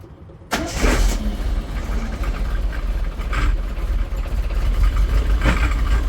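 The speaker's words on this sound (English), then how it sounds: "I've just pulled the choke on, and now it's running a lot better" A 1980 Triumph TR7 engine catches and runs with the choke pulled, a close, steady idle with a deep low rumble and occasional slight surges in level.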